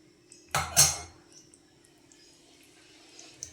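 A lid set onto a pot of simmering water, one sharp metallic clank followed by a brief rattle as it settles, then quiet with faint bubbling and small ticks.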